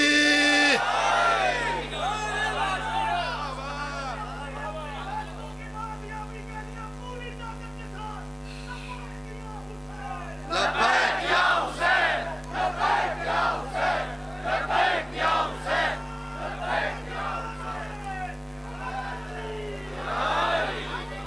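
At a Muharram majlis held on 4 Safar, a gathered crowd shouts the Naara-e-Haidari slogan. One amplified voice leads at first, then many voices roar back in loud, repeated bursts over a steady electrical hum.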